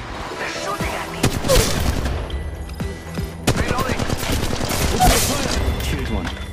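Rapid bursts of enemy gunfire in the mobile battle royale game Apex Legends Mobile, dense overlapping shots and automatic fire close and loud, with a voice speaking over parts of it.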